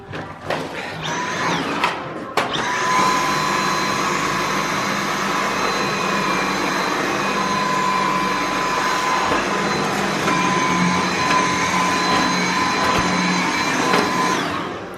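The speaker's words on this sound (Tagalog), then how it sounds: "maganda ang itong Dyson, Dyson na pang vacuum kasi talaga kuha talaga ang dumi ba, bilis na makuha" A Dyson cordless vacuum cleaner starts up close by with a few bumps, then holds a loud, steady high whine with a whooshing airflow hiss for over ten seconds before winding down, with no talking.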